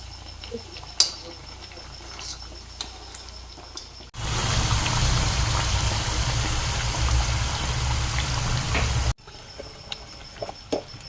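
Chana dal vadas, fritters made from split Bengal gram, deep-frying in hot oil: a loud, steady sizzling hiss fills about five seconds, with quieter kitchen sounds before and after.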